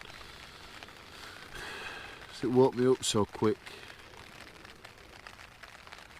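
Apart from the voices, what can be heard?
rain on tent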